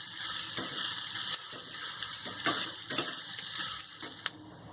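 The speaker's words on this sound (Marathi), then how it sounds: "इथे मी हा कांदा भाजून घेते. चांगला लालसर भाजायचा आपल्याला." Onion roasts in a steel or iron kadhai with a steady, soft sizzle and crackle. Faint scraping from stirring comes and goes throughout.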